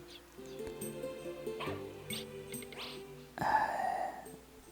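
Puppy in the Wild Arms 2 video game barking and yipping over steady game music, with a brighter, louder burst of yelps near the end.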